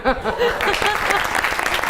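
Audience applause at a live Punjabi/Hindi comedy stage show, a steady clatter of clapping running the full two seconds, with voices and brief speech mixed over it.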